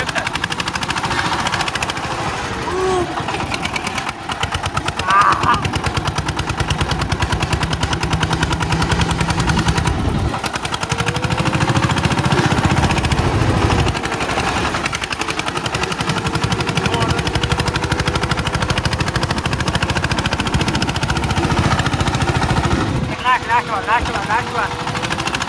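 A mini tractor's engine runs loud and steady up close for the whole stretch, a continuous heavy rumble with a few short dips, and voices may be faintly mixed in.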